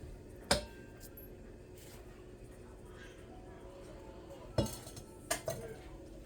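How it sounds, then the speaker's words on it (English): A utensil stirs lemon pound cake batter in a bowl, giving a few sharp clinks and taps against the bowl over a quiet background, with scattered soft scraping between them. "And we're going to mix this together."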